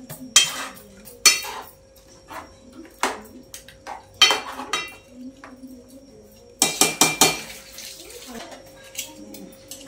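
A spoon scrapes and clanks against a pot while chicken is mixed with tomato puree, a series of sharp metallic knocks and scrapes at irregular intervals, with quieter wet stirring between.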